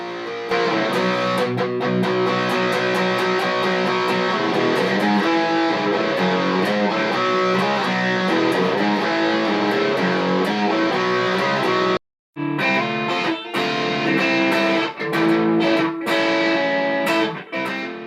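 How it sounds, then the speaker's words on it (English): A distorted black SG-style electric guitar plays a continuous riff with a crunchy, saturated tone, loud and close, pausing briefly near the end before resuming. "This black guitar sounds a lot like an Epiphone or Gibson SG model"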